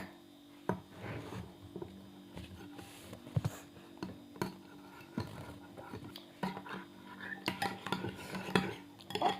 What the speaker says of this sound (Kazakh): Қазір араластырамыз.